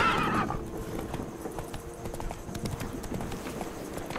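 Geralt's horse Roach in The Witcher 3 video game: a brief whinny at the start, then steady clip-clop of galloping hooves running on, moderately loud, with faint speech in the background.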